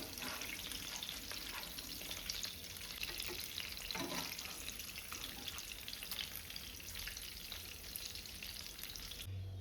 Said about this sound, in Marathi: अशें करून हे सगळे फ्राय करून घेवंक जाय.